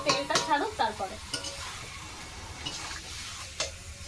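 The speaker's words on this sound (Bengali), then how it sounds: "তো দেখো চিকেনটা কিন্তু বেশ কষানো হচ্ছে" Chicken sautéing in oil in a pan, a close steady sizzle with brief clinks of a utensil against the pan, and a voice speaking briefly at the start.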